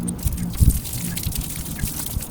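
Water drips and trickles off a freshly washed front bumper of a 2004 Ford F150 FX4, a close series of wet patters and small splashes with one louder drop near the middle.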